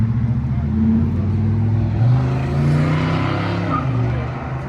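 Carbureted small block V8 in a Chevrolet Nova at a car meet, a loud, rumbling engine revving continuously up close, the pitch rising and falling, with faint voices underneath.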